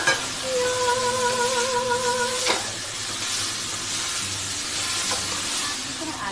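Broccoli sizzles and fries in a non-stick pan while being stirred, a steady close crackle with a faint tonal hum in the first half and a couple of brief scraping knocks.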